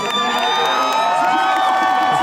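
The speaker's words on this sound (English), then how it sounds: "The crowd are talking through the moves." A large crowd at a men's bouldering final in Prague cheers and whoops continuously, a loud, dense roar of voices with shouts rising over it across the whole stretch.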